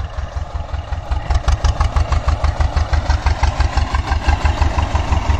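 An antique Escorts T25 tractor engine chugs in a steady, rapid low-pitched pulse while the tractor runs in reverse, close and loud, with no talking.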